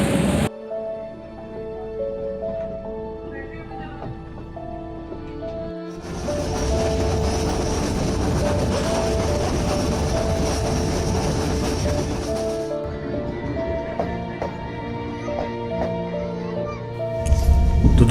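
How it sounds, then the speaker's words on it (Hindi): Metre gauge passenger train on the Mailani–Bahraich section, a continuous loud rumble and clatter of the running train with a rising roar in the middle stretch, alongside tonal whining and a horn-like hum. "छोटे छोटे स्टेशन से गुजरती हुई ये मीटर गेज ट्रेन 8 घंटे लेती है बहराइच पहुंचने में"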